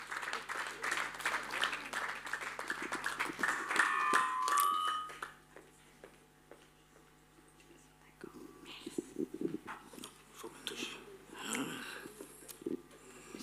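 An audience at a seniors' banquet claps for about five seconds, loud and dense, then the applause fades into quieter room noise with scattered soft sounds.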